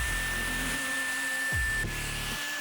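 A cordless electric air duster spinning at high RPM blows with a loud, steady whine, its pitch dropping and rising as the motor is eased off and on twice near the end.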